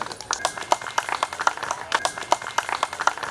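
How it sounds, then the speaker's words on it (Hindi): A crowd at a dengue and malaria health awareness camp claps in a steady, rhythmic unison, sharp hand claps repeating quickly and fairly close for the whole stretch, with a faint murmur of voices underneath. "ताली बजाइए।"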